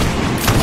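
Musket volley in the video game Holdfast, Dutch against Spanish troops: a dense, loud rolling burst of gunfire with a boom swelling midway through a short, busy battlefield din.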